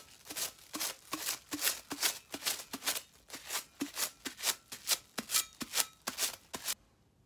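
Crinkled plastic wrap dabs alcohol inks onto a tumbler in a quick, steady series of close, sticky crackling pats, roughly three per second, that stop abruptly at the end, with no talking.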